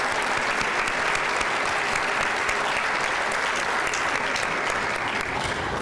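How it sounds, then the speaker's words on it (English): Sustained crowd applause at the City of Tampa Black History Celebration for elected officials, loud, dense clapping that holds steady from start to finish. "give you some claps, give you a little round of applause there"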